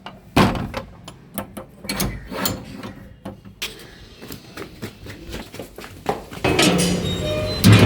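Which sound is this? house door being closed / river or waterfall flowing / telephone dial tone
house door being closed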